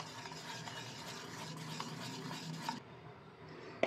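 Sifted dry flour mixture being folded into carrot cake batter in a bowl, a soft, steady scraping and stirring that runs continuously and fairly quietly, then drops away near the end.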